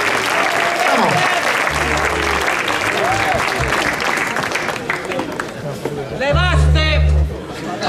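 A crowd claps for a birthday at a tribute concert, steady applause mixed with lively chatter, shouts and voices, with a brief bump of low sound near the end.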